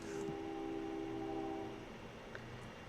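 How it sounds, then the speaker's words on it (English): A steady low rumble with sustained horn-like tones, like a train passing at a moderate distance, fading slightly toward the end. "Hopefully the train is loud enough to stop me from swearing out loud"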